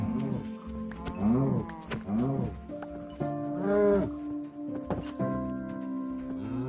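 Cows in the Minecraft video game moo repeatedly, several drawn-out nasal calls overlapping in an irregular sequence, fairly close and clear against a faint background.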